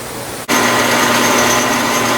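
A machine carriage on a workshop machine travels under its power feed while a hammer handle is being made: a steady mechanical hum with high whine starts abruptly after a short pause and runs evenly, loud and close.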